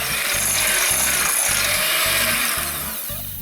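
An electric mixer whisks egg whites and sugar toward stiff peaks for a Japanese lemon sponge cake, making a loud, steady motor whir with a rhythmic low churning pulse throughout.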